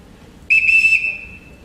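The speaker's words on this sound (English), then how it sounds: "Everybody answers to a whistle." A single sharp whistle, a person's call to summon others, rings out loud and close, held steady for about half a second and then trailing off in a fading tail over a faint room hush.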